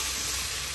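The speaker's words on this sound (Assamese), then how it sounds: "মাংসখিনি মই ভাজি আছোঁ" Low-fat pork frying in oil in a pan with onions, a dense continuous sizzle heard up close for a brief moment.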